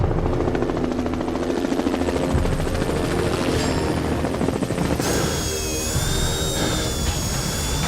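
Helicopters approaching in a disaster-response scene: a dense, loud rotor and engine roar fills the whole span, with a high turbine whine rising near the end and no voices.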